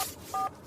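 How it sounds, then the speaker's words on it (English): A telephone number is dialed on a phone keypad inside a moving car: two short, clear dual-tone beeps, a brief one at the start and a longer one just after a third of a second, with no talk. "I'm going to phone her."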